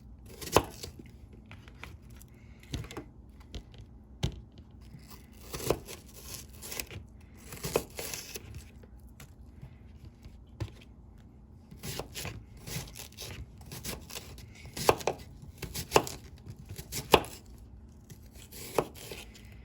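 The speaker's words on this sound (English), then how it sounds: "3 yellow onions that I've peeled. I am just going to slice these up" A knife slicing peeled yellow onions on a cutting board, producing irregular, close, crisp cuts and crunches spaced through a fairly quiet background, with short bursts of quicker chopping.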